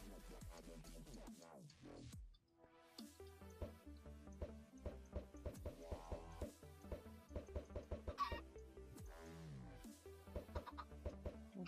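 Chickens cluck in Minecraft, laying hens gathered on a farm, their clucks sounding repeatedly over a busy, continuous game music bed, with a brief pause in the music partway through.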